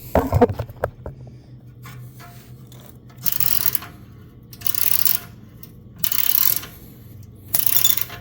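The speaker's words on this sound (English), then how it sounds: "And then I'll put the clamp on it and we'll tighten her down." A clamp bolt is cranked tight on the stock exhaust pipes of a 2024 Harley-Davidson Road Glide fitted as a 2-into-1, giving four separate bursts of close metallic ratcheting spaced over several seconds with quiet pauses between.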